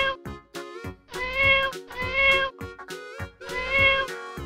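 A cat meows repeatedly in the video game Jurassic World Evolution 2, several drawn-out, whiny meows in a row with short gaps between them, loud and close.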